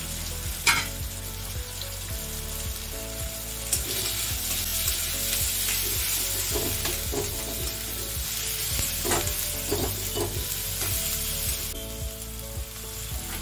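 Chopped vegetables fry loudly in hot oil with turmeric and chilli powder, a strong continuous sizzle with repeated scraping stirs and a low rhythmic mechanical hum underneath, no voices.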